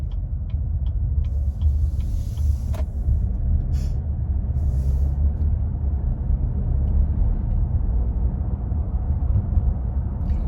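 Car driving slowly along a road on the way to work, heard from inside as a steady low engine and road rumble that continues throughout, with a few faint higher ticks and hisses.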